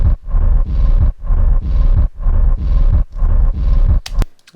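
An unprocessed low-end atmosphere synth layer from a techno track sounds as a dense, loud rumbling pad that swells and cuts in about six repeating pulses, then ends with a couple of sharp clicks.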